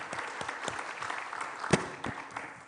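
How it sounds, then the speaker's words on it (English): Applause from the audience at a city council candidate forum in Fort St. John, a light, scattered round of clapping with a few sharper claps standing out, fairly quiet and steady for under three seconds. "We can give a round of applause to that question if you so choose."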